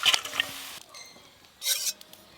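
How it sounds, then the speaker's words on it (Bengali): Fried potato and cabbage being turned in a pan, with a scraping stir at the start and a second rasping sweep near the end, close and moderately loud. "আর কিন্তু চাপা দেবো না, দু একবার নেড়েই নামিয়ে নেব।"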